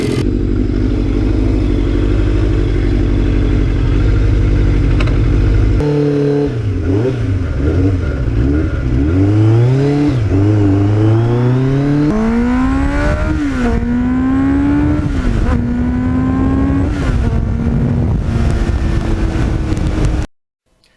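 A 1989 Kawasaki GPX750R fitted with a Muzzy muffler idles with a deep, loud rumble, then revs repeatedly, its exhaust note rising and falling in strong sweeps before cutting off.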